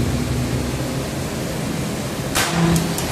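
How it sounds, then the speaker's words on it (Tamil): An air circuit breaker charging inside a 400 kW back-pressure steam turbine plant: a steady broadband roar of machinery runs throughout, then a short, sharp whirring burst and faint tonal hum appear near the end. "ஏசிபி சார்ஜ் பண்ணிடுற சவுண்டு உங்களுக்கு ஒன்று கேட்கும் பாருங்கள்."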